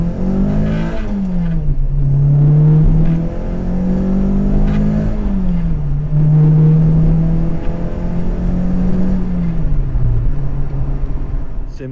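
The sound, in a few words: Renault Sport Clio 172 exhaust while accelerating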